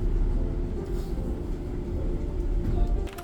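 A passenger train on the line to Beckton in London rolls along with a steady, loud, low rumble and faint wheel noise, heard from inside the carriage.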